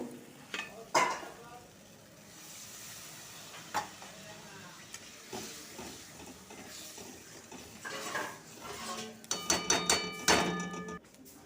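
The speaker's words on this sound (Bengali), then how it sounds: "কষানো হয়ে গেছে এবার গরম জল দিয়ে দেব" Hot water poured into a frying pea curry in a pan, a brief splash and a rising hiss of sizzling near the end, after scattered spatula scrapes and clinks over quiet background.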